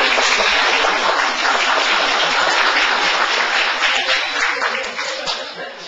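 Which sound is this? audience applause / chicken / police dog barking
audience applause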